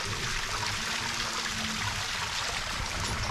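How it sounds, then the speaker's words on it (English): A small backyard creek at a house in Pine, Arizona trickles and babbles steadily, a continuous close wash of flowing water with no pauses. "has its own built-in backyard personal creek."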